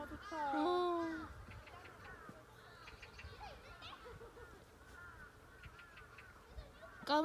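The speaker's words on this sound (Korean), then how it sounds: "까마귀 소리마저 듣기 좋은 이곳 참꽃나무숲." Crows caw in a forest of flowering trees on Jeju Island. A loud, harsh call comes at the start, then fainter calls sound in the distance while people talk quietly nearby.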